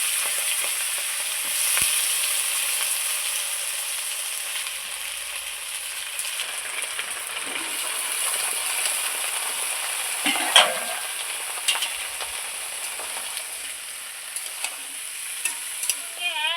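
Mixed vegetables for labra fry with bay leaf, panch phoron and slit green chilies in a pan, a constant loud sizzling hiss with occasional clinks and scrapes of stirring, close and without speech.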